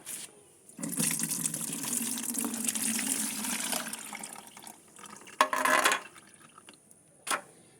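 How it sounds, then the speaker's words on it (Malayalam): Beetroot water pours steadily through a strainer with a splashing gush for a few seconds, then stops, followed by brief dribbles and a short final splash. "ഈ അരിപ്പ് വെച്ചിട്ട് നമുക്ക് ആ ബീട്രൂട്ടിൻ്റെ വെള്ളം ഒന്ന് അരിച്ചെടുക്കാം"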